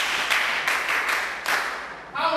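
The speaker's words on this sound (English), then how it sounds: "Clap for her" A room of schoolchildren and adults breaks into steady applause for a girl at school, a dense, even patter of many hands that holds for a couple of seconds.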